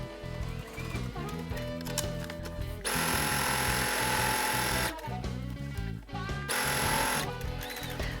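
Sewing machine stitching ribbon around a quilt block, a steady mechanical whir running in two bursts of a couple of seconds each, close and fairly loud, with quieter workshop sounds between the runs.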